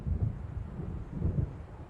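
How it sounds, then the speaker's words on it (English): Thunder from an approaching storm in Alan Wake Remastered rolls in as low, muffled rumbles that swell twice in under two seconds. The rumbles sound distant and stand alone without speech. "It seems there's a storm coming."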